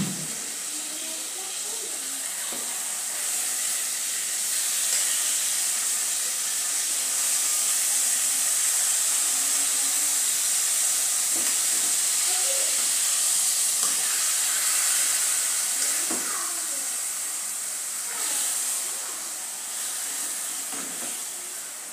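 Food sizzles and fries steadily in a pan with onion added, a continuous bright hiss with occasional crackles and soft stirring taps, close and fairly loud throughout.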